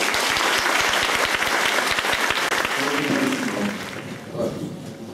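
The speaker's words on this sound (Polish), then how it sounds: "Wielkie brawo." An audience at a school farewell ceremony for graduating third-year classes claps loudly in a dense, sustained burst that tapers off toward the end, with faint voices emerging as it fades.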